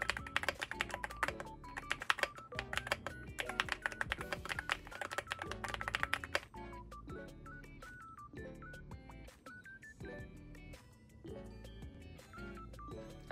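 Rapid clacky keystrokes on a custom Kuromi-themed mechanical keyboard, dense for the first half and sparser later, with soft melodic music playing underneath.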